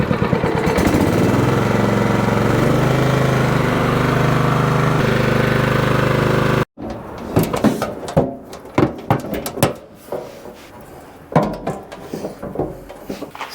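A vehicle engine runs loud and steady at a rough idle after ignition, with a fault-prone starting issue. It cuts off abruptly, followed by clattering knocks and handling noises up close.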